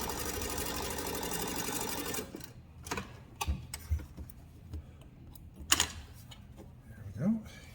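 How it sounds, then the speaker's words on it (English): Sewing machine stitching quilt rows together runs in a steady close buzzing stretch, then gives way to scattered handling clicks and thumps with a voice talking softly. "We're just sewing rows together."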